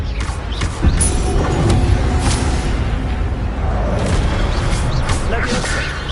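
An Expelliarmus spell cast in a Harry Potter video game, a dense, loud magical burst with booming whooshes and mechanical rumbling that stays full and sustained throughout.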